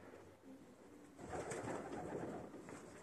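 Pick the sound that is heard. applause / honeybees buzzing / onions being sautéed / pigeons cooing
pigeons cooing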